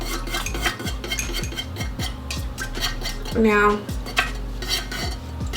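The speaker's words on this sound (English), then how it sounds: "So pour the fragrance oil directly in as you stir." Fragrance oil stirred into melted coconut wax in a cold pouring pitcher, a metal utensil scraping and clinking rhythmically against the vessel, close and fairly loud, with a brief spoken word over it.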